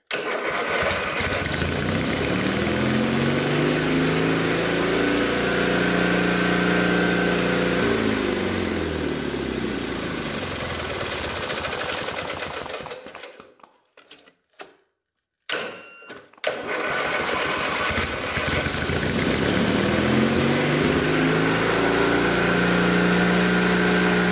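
A homemade offroad mudmower built with Model A parts runs its engine loudly and continuously nearby, with a roughly steady drone that wavers in pitch, cuts out briefly about two-thirds through, then picks right back up.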